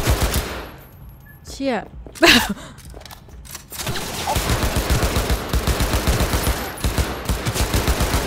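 Rapid automatic gunfire in Cyberpunk 2077 rattles steadily through the second half, preceded by a few sharp isolated shots and a brief exclamation from a man.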